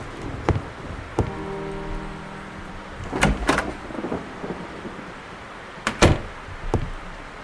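A wooden door in the Scratches horror video game creaks and thuds open, with a drawn-out groaning creak followed by several heavy knocks and clunks, set against quiet background rain.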